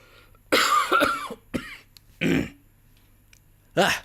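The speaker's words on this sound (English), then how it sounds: "Excuse me, I'm going to cough." A man coughs a few times in separate loud bursts with short pauses between them, close to the microphone, with a throat-clearing sound in the mix, while gameplay plays quietly underneath.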